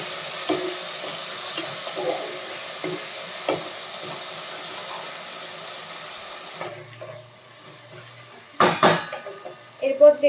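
Mutton curry with ginger-garlic paste is stirred in a pan, a soft sizzle under occasional scraping strokes that drops away midway, followed by a few sharp utensil clanks near the end, with no voices.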